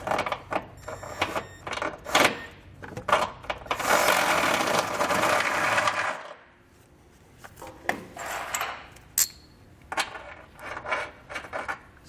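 A die grinder bit opens up a hole in the frame rail of a 2021 Subaru Crosstrek during a trailer hitch install, with a couple of seconds of harsh grinding between bursts of metallic clicks and tool handling.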